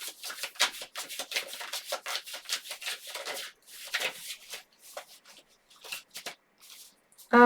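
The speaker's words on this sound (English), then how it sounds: "Let's draw a card or two for that." Tarot cards being shuffled by hand, with a rapid run of close, crisp riffling and rubbing strokes, then a few slower slides and pauses as cards are drawn, with no voice.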